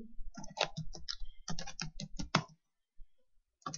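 Fast bursts of keystrokes clatter on a computer keyboard while entering a customer name into accounting software, close and crisp, stopping briefly before a few more taps, with no talking.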